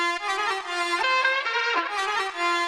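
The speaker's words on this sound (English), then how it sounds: "If I solo the pipes, it sounds like this." A soloed pipes sample from a Bollywood song production plays a reedy, sustained melodic line with bright harmonics and gliding notes, heard alone without talk.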